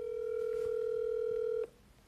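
Steady telephone tone heard while a phone call is being placed, a single continuous note holding loud and clear for about a second and a half before cutting off abruptly, with no talking over it.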